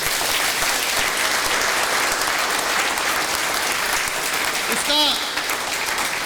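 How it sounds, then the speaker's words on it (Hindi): Loud, dense applause from an audience at a gathering, sustained for several seconds as a continuous wash of clapping, with a brief voice rising over it near the end. "चाहूँगा इनके लिए एक बार जोरदार तालियाँ।"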